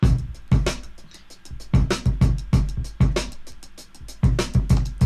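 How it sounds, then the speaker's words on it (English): A classic funk drum break, played dry with the compressor bypassed, with punchy kick drum and snare hits over busy hi-hats in a tight repeating groove. "it's a pretty classic funk break"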